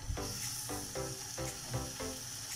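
Marinated meat searing in hot olive oil in a pan, a steady close sizzle and hiss with a few brief louder crackles as pieces settle.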